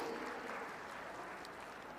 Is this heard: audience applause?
yes